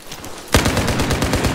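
Gunfire erupts in the video game Battlefield 4: after a quiet moment, a sharp shot opens a rapid, steady burst of automatic fire that is loud and close.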